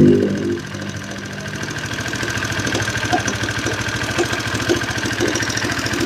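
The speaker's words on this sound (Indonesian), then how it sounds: "Kita coba dan dengarkan suara mesin ya" A Honda CBR 150R motorcycle engine idles roughly nearby, a steady uneven putter with irregular knocking ticks and rattles over a low throb, with no talk.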